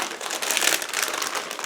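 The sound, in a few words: plastic bag crinkling as model kit sprues are removed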